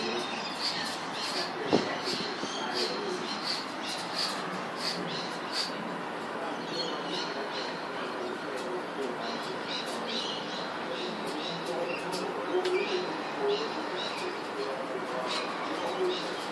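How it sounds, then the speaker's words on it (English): Australian bird calling outdoors, repeated short cooing and chirping notes over a dense, noisy background of other birds and ambient sound, with someone talking. "I wonder what this bird wants."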